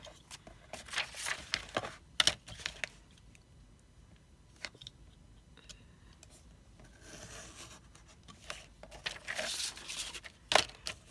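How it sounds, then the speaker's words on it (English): A craft blade slicing and scraping through thin vellum paper, with rough, uneven rubbing and tearing-like strokes in bursts, close up and without talk. "So now you can just cut it out."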